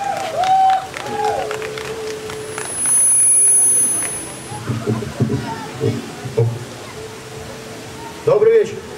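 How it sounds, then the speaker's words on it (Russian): Audience applause and cheering for a singer at a live concert, broad noisy clapping that swells and fades under and between stretches of talking, with a loud burst near the end. "друзья, ваши аплодисменты!"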